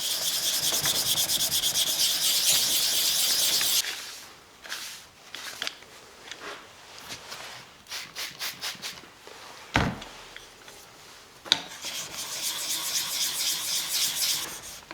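A steel block plane sole is rubbed back and forth on 600 grit abrasive in a steady, gritty scraping rhythm, close by, broken by a few pauses and light knocks before the strokes resume.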